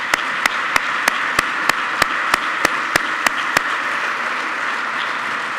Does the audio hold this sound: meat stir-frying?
no